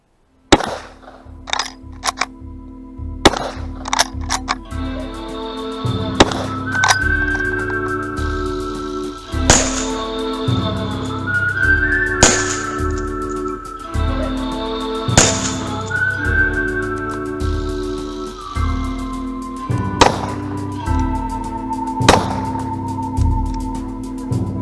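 Gunshots ring off rimfire and centerfire steel gongs at an outdoor shooting setup, with sharp cracks followed by long, pitched metallic ringing tones that overlap and sustain across a steady series of hits.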